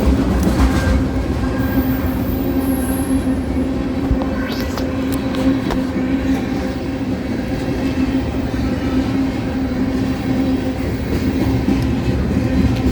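A CSX freight train moves slowly at medium speed through an interlocking, its steady rumble and grinding wheel noise continuous and close, with a brief high squeal early on.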